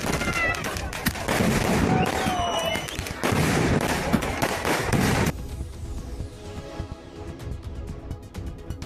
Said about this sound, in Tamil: முன்னதாக இரவை பகலாக்கிய வான வேடிக்கைகளை விழாவில் பங்கேற்றவர்கள் கண்டு ரசித்தனர்.